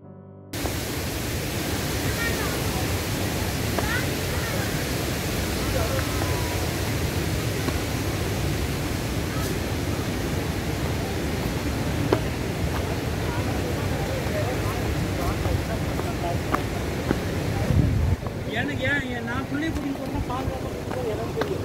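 Seetharkund waterfall in the Nelliyampathy hills, swollen by monsoon rain, gives a steady, loud broadband roar that runs unbroken throughout, with wind buffeting the microphone.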